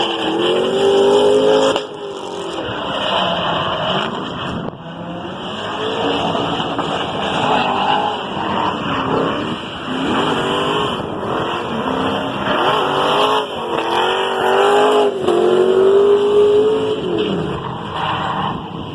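A Mazda Miata swapped with an LS V8 engine revs hard and roars continuously as its worn tires spin and squeal through a figure eight, loud and close for the whole stretch.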